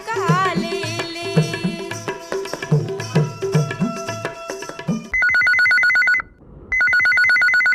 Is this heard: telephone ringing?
yes